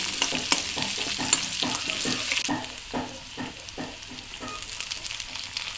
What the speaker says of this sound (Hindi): ये देखिए हमारे जीरा यहाँ तड़क रहे हैं